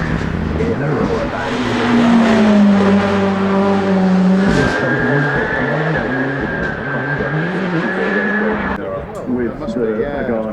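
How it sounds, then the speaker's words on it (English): A one-off Ferrari SP8 drives up the hill at the Goodwood Festival of Speed, its engine note rising and shifting through gears while a commentator talks over it continuously. "A very special Ferrari heading up the hill now in front of you. The Ferrari SP8, one-off design"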